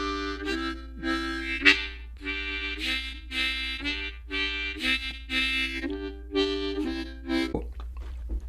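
Blues harmonica repeating short, bright phrases that shift from a full normal tone toward a thinner, buzzy mosquito tone, with quick breathy attacks and gaps between phrases, close and fairly soft over a low steady hum.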